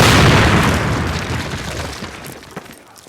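A heavy explosion in Call of Duty as charges placed on a cinder block wall detonate, a loud booming blast that rolls and decays over about three seconds, with a small pop near the end.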